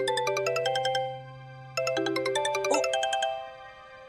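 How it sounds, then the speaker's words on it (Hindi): A phone rings with a bright electronic melodic ringtone, repeating in two bursts with a short pause between, fairly loud and alone with no talk. "सोसाइटी के मित्र मंडल का फोन बज रहा है"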